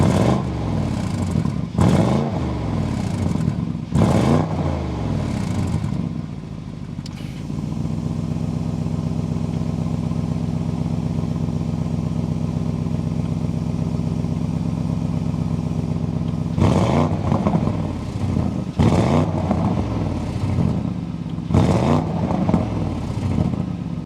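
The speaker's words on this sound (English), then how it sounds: "We need to go inside, start it up, so you can hear that exhaust note." The bi-turbo engine of a 2025 Audi RS Q8 Performance SUV starts and revs hard, its deep exhaust roaring in bursts, settling into a steady rumbling idle, then revving loudly again several times.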